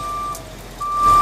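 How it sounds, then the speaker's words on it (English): A cement truck reverses with its backup alarm sounding two steady, evenly spaced beeps over a low engine rumble that swells toward the end. "here comes the cement truck"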